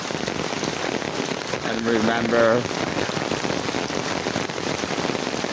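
Torrential rain pours steadily on a holiday weekend, a dense continuous hiss that stays loud and unbroken throughout, while a person speaks briefly over it partway through.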